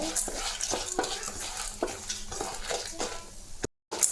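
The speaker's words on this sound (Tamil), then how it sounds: "பச்சை மிளகாயும் ஒன்று போட்டுருக்கோம் அதில் பொன் நிறமாக வறுத்துக்குங்க" Green chilies frying in a pan until golden for sambar, a soft sizzle under repeated scraping and stirring strokes from a utensil against the pan, moderately close with a brief dropout near the end.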